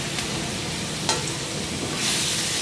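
Boiled kachu greens hitting a wok of hot oil with bay leaf, dried red chilli and panch phoron, a dense steady sizzle heard close, with a brief clink and the hiss swelling near the end.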